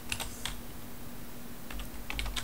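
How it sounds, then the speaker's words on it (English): Keystrokes on a computer keyboard come in two short bursts of a few taps each, near and crisp over a steady low electrical hum, with a quiet pause between them and no talking. "if I type in"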